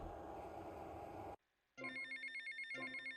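In GTA Vice City, a payphone rings in a repeated electronic trill that pulses steadily and loudly. It comes in after a burst of game noise and a short silence.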